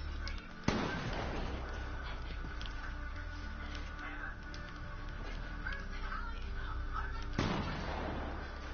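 Quad launcher rockets exploding in an online shooter game, two booming blasts a few seconds apart over a constant noisy game background, moderately loud and without nearby speech.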